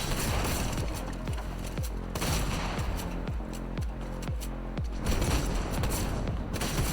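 Underworld SMG fire in a one-on-one shooter game, rapid bursts of shots repeating steadily over a dense, loud game background.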